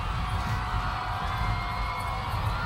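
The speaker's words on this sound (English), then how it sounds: "Listen to the cheers." A large outdoor crowd on the National Mall in Washington cheers at a presidential departure from the White House, a dense, distant roar of voices and whoops that holds steady throughout.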